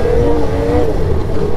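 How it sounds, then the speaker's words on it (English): A turbocharged snowmobile fitted with a Hygear IGX linkage revs loudly and close by in the snow at Island Pond, Vermont, a brief steady engine whine with a rising pitch. "the turbo definitely sounds cooler"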